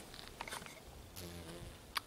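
A small bee or wasp buzzes briefly outdoors among flowering plants and flies off, a faint, short drone over quiet background noise.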